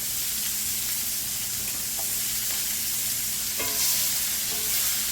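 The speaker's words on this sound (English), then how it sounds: "I'm going to go ahead and throw some butter in." Butter sizzles steadily in a cast iron skillet alongside a searing picanha, making a constant crackling hiss with a few brighter pops, with no talking.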